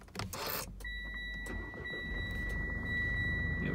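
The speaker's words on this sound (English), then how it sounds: "There we go, just started it up." A 2017 Mitsubishi Pajero Sport GLS starts by push button with a brief crank and catch, then settles into a steady idle with a faint high whine, heard from inside the cabin at moderate level with no talk.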